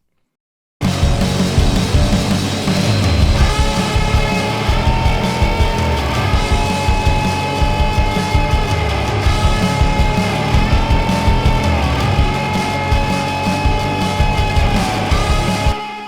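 Full music mix run through a Cobra Fuzz pedal blended on the main mix bus, a dense, gritty, distorted band sound with crunchy top end, playing continuously and loudly after a brief silent start.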